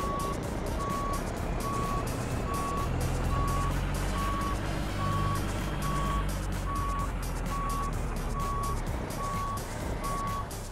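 Steady, evenly spaced reversing beeps from a truck backing up in American Truck Simulator, ringing loud and continuous over a low engine rumble while it squeezes in next to a grain trailer.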